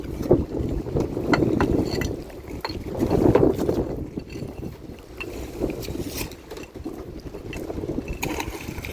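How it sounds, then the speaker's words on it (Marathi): A boat moving on the sea ahead of a storm, with a steady broadband rush of water and wind noise running through the whole stretch, swelling and easing in waves, and no talk. "इकडे बोट चालते"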